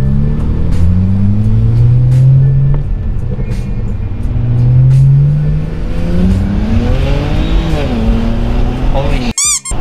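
Stage 2 tuned BMW 335i accelerating hard at close range, engine note climbing through gears with loud rumble, then sharp exhaust pops and crackles near the end; people talk excitedly over the engine.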